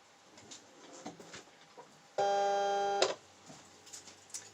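A Silhouette cutting machine cutting out a decal gives a brief steady whirring buzz of about a second, between soft ticking and clicking mechanical sounds, close and fairly quiet.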